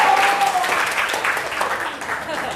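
A classroom claps together in a short burst of applause that carries over a steady wash of noise. A voice is heard briefly.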